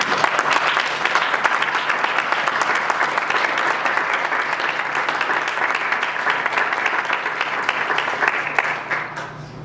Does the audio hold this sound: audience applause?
yes